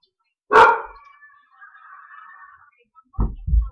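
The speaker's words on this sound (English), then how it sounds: "That's why my dogs are barking" A dog lets out one sharp, loud bark up close, then a drawn-out whining tone trails off, and two dull low thumps follow.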